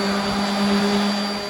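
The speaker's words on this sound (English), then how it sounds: "take an orbital sander with a very light finishing pad just to go over it real quick before I do the stain" An orbital sander fitted with a light finishing pad runs over an old wooden furniture board, giving a steady, close motor whine and hum with no pauses.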